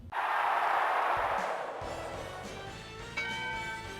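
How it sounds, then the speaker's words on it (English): A wrestling ring bell rings out to end a match, one loud bright strike at the start decaying into a long shimmering ring that fades over several seconds, with crowd noise underneath. "The bell has sounded"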